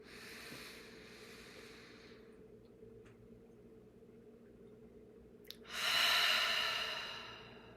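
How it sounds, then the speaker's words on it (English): Slow breathing with a long, soft inhale through the nose, a quiet hold, then a louder, breathy exhale close to the microphone, with no talking. "So in for 4, through your nose, hold for 4, exhale for 4"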